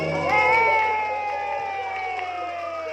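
Guests at a Mickey Disney-themed children's birthday party cheering, with shouts and sustained voices over some clapping, loud and close, the crowd noise slowly fading.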